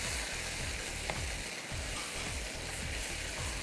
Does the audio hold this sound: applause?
no